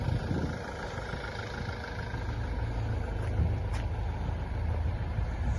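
Large modern tractor, a New Holland T8 type, idling at an agricultural show, its engine giving a steady low rumble close by with a couple of faint clicks and no talk.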